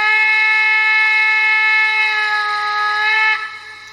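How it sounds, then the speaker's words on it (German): Steam locomotive whistle sound effect played from a Gauge 1 model of a Bavarian D XII class 73 locomotive by Spur1-Exklusiv: a loud, steady, multi-tone whistle held for over three seconds, then cut off, leaving a faint tail. "Dann gibt es einen Pfiff, der in Abhängigkeit von der Länge des Tastendrucks ertönt."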